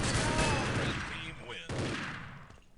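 Gunfire from a 2v2 online video game tournament match, including a headshot: a loud, dense burst of overlapping shots that fades, then a second sharp volley, with a voice talking over it.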